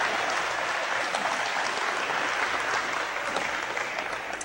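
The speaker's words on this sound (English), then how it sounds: "There, now you can really applaud." Audience applause at a talk, a dense steady clapping from a crowd that holds at full strength throughout without pause.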